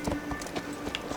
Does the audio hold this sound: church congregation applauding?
no